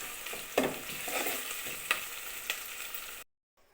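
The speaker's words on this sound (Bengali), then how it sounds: "পেঁয়াজগুলো একদম লাল লাল করে ভেজে নেব" Red desi onions frying and browning in a pan for biryani, a steady close sizzle with several stirring scrapes and knocks, no talk, cutting to silence at the end.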